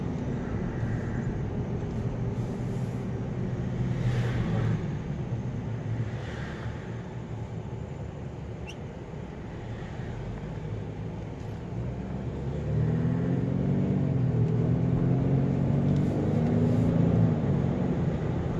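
Steady tire and engine rumble from the inside of a car cruising a road near the Rumson Oceanic Bridge, continuous and moderately loud, swelling a little heavier toward the end with no voices.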